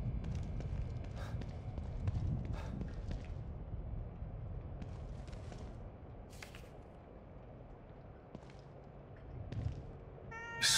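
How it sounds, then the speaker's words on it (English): A cat meows a few times inside The Evil Within 2, moderately close, with footstep-like thuds and a low ambient drone underneath. "A cat?"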